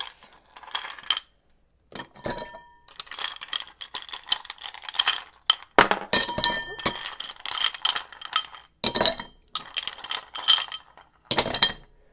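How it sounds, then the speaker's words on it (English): Ice clinks and rattles against glass as a Manhattan cocktail is stirred, in bursts of close, bright chinking separated by brief pauses, with no talking. "I'm going to stir this with some ice"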